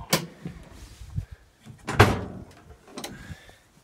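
Rear door of a VW Caddy van being opened, giving a few sharp mechanical clunks and a latch knock close by, with a louder thud in the middle and quieter rattles after, and no talking.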